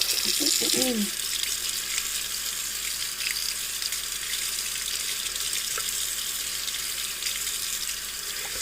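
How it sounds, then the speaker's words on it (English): Tap water runs steadily over tomato seeds in a mesh strainer, a constant close hiss of flowing water with a brief sound at the start. "And then I take some of the water, and I just kind of rinse it out."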